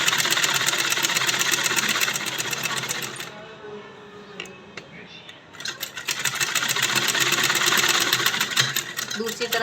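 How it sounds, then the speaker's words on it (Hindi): A sewing machine stitches a pleat on a salwar in fast, loud, continuous runs, stopping for a short pause midway before starting up again, with a person talking in the gap. "दूसरी तरफ सिलते हुए हम ऐसे बाहर निकल जाएंगे"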